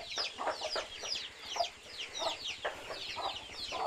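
Many chickens cluck in a highland village of Muong and Thai people in Hoa Binh, a busy chorus of short, overlapping clucks and calls, some near and some farther off, fairly quiet and without talk.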